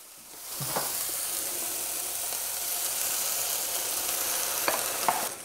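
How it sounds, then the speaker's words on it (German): Beaten egg pours onto sautéed vegetables in a hot pan for an omelette, setting off a steady, even sizzle with a few soft clinks of utensils and no voice. "Mein Gemüse ist jetzt soweit angebraten. Da kommt jetzt mein Ei drauf."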